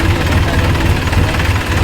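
A tractor engine runs at a steady idle, with a loud, continuous low rumble and vibration close by and no talking.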